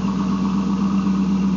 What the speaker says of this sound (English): It's nice sounding. It's completely factory exhaust, minus it's got a Flowmaster muffler.